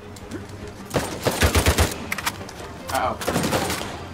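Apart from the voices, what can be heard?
gunfire in the video game Uncharted 4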